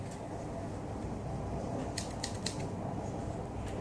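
Close, crisp snips of scissors cutting open a feta cheese package, three or four quick cuts in the middle over a low background hum.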